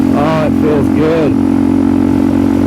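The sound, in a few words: Suzuki DRZ400SM motorcycle engine at wide open throttle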